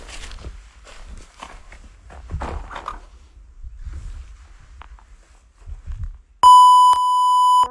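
A long, loud electronic censor beep over a spoken address cuts in after someone speaks in a quiet room, with footsteps and shuffling before it.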